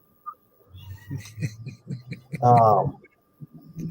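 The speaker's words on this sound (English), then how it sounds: "there's a cat down here" A cat gives one drawn-out, loud meow close by, heard between stretches of someone talking.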